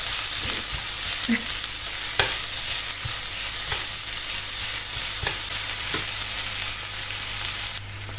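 Onion, with some spring onion, sizzles steadily in a hot pan, a dense close hiss punctuated by occasional light taps and scrapes of a stirring utensil, with no speech.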